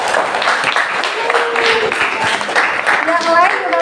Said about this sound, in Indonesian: Beri aplaus untuk Mbak Gina.